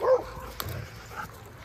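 A husky puppy at play lets out a quick bark and a few short yips and whimpers, close and brief, amid excited household noise.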